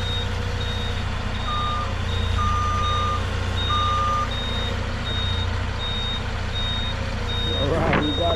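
A forklift unloading Trex deck and block materials from a Lowes delivery gives off a steady run of reversing beeps over a loud, continuous diesel engine rumble, with a short squeal near the end.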